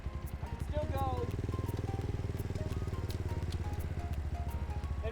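A CFMoto Papio SS motorcycle with a broken kickstand kill switch runs steadily nearby, its engine note rising and settling as it is ridden through the gears, with a brief voice near the start.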